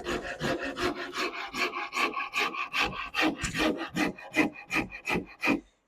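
A hand rasp shaping a wooden guitar neck during carving, heard alone as steady back-and-forth rasping strokes, about a dozen in quick even rhythm, close and fairly loud, ending abruptly.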